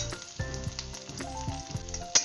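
Green chili and onion fry in a pan with a soft, steady sizzle and occasional sharper pops, under a tonal, melodic background layer.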